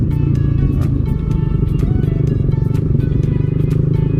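A Suzuki Raider 150 Fi motorcycle engine runs steadily, close and loud, with a continuous low throbbing drone and no talk over it.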